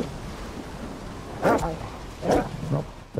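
Dog in the game Stalker 2: Heart of Chornobyl giving a few short, sharp barks and yips at moderate distance, spaced apart over low background ambience.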